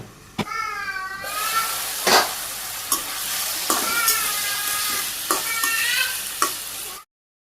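Okra and other vegetables with raw ginger are sautéed in a hot pan. A steady sizzle runs throughout, with repeated scraping spatula strokes close by and a voice briefly heard.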